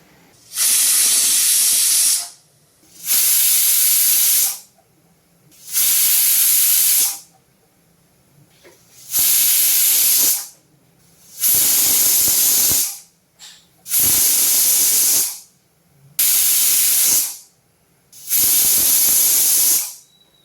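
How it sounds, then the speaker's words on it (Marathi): A pressure cooker holding a Malvani-style jackfruit vegetable dish releases about eight loud, sharp steam whistles, each a harsh hissing blast lasting a second or two, separated by short quiet gaps. "कुकरला आता झाकण लावून घेतलेलं आहे आता त्याच्या सात ते आठ आपण शिट्या काढून घेऊया"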